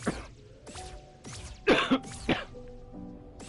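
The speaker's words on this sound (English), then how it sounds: "I'm sorry, as I always am, about the coughing." A person coughs and clears their throat several times in short, harsh bursts, close and fairly loud, with a couple of stronger hacks in the middle and quiet pauses between.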